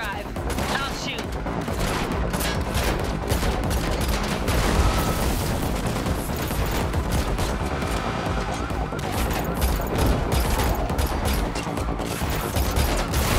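Dense, continuous gunfire during a car chase in The Matrix Awakens on PS5, rapid shots layered over engine roar, mechanical clatter and a siren-like wail, loud and unbroken throughout.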